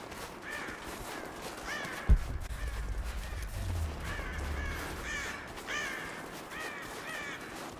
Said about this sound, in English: Not going to worry about shooting the birds out of the nest at the moment.